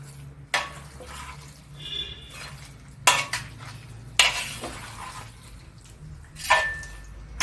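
Lemon pickle is stirred in a pot with a few separate, irregular scrapes and clanks of a spoon against metal over a faint low background hum.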